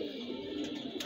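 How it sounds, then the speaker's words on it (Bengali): Pigeons at a loft coo softly in a short, low murmuring burst, faint and close, with no voices. "অনেকগুলো উড়ে, অনেকগুলো আবার বাসায় বসে থাকে কবুতরগুলো"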